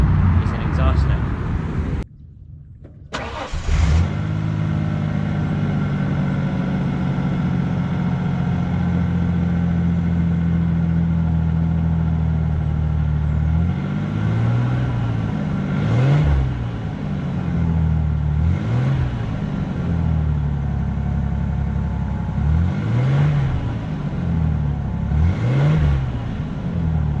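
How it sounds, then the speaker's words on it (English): A 1996 Mazda B3000 pickup truck idles with a steady low exhaust drone, then is revved several times, each blip rising and falling in repeated bursts near the microphone. "But one last thing I will give you is an exhaust note."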